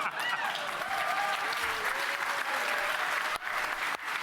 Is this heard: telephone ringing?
no